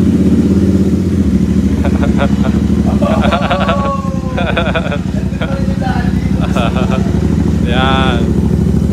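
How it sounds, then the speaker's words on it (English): A Royal Enfield Interceptor twin idles with a steady, close, rapid thumping exhaust pulse, while people talk and shout over it. "Let them hear the idle sound."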